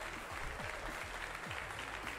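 Steady crowd applause at an Age of Empires II tournament final, faint and somewhat distant, with a low murmur running beneath it.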